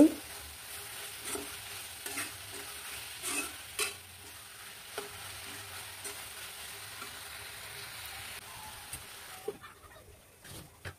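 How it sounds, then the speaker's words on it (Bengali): Chili powder, turmeric and panch phoron are stirred in a hot pan while making a taki fish chutney, a quiet sizzle beneath occasional soft scrapes and taps of the spoon, close and unaccompanied by talk. "এক চামচ মরিচের গুঁড়া এক চামচ হলুদের গুঁড়া একটু পাঁচফোড়ন দিয়ে নেড়ে চেড়ে দিচ্ছি"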